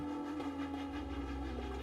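A passenger train riding on its rails, a steady droning rumble with a sustained tonal hum, heard from inside the carriage at low, even level with no talk.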